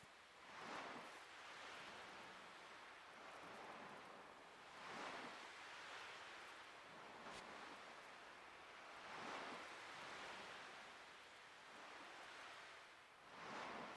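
Ocean waves in the video game Chrono Cross: soft, distant surf washes in and recedes in a slow, regular rhythm of swelling hisses roughly every four seconds, faint and alone.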